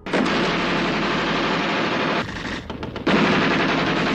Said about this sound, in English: M1919 Browning Machine Gun